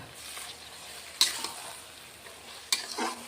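Bottle gourd sautéing in a pan for a lau ghonto with fish head, a steady soft sizzle broken by two sharp scraping stirs of a spatula, close and moderately loud with no talk.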